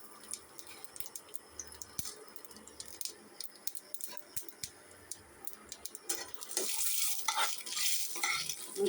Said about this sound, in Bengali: কড়াইতে তেল দিয়ে পাঁচফোড়ন আর শুকনো লঙ্কা ফোড়ন দেবো